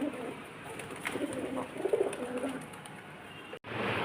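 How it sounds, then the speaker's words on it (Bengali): Pigeons cooing close by in soft, repeated throaty calls, with faint background noise and a brief dropout near the end. "চলে এসেছে পায়রাগুলো"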